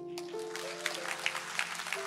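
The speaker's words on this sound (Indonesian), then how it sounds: "Yang belakangan itu dipaksa tepuk tangan." A few scattered claps from a church audience ring out as sparse, separate hits over a sustained tonal hum, suggesting only a couple of people clapping.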